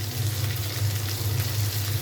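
Cabbage and potato stir-fry frying in a pan, a steady loud sizzle with low crackling throughout, no voices.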